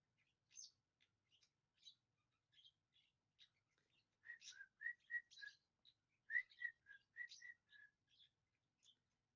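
A small bird whistles and chatters softly nearby, with scattered chirps building into a run of quick whistled notes, no voices.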